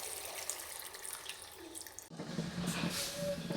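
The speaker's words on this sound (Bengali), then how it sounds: "এখন ঝোল দিয়ে দিচ্ছি।" Liquid broth poured into a pan of fish curry, a steady watery splash that starts partway through and runs on, fairly close, with no voices.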